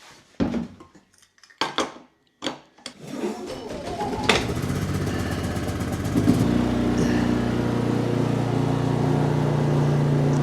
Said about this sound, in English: generator's generating, power's being made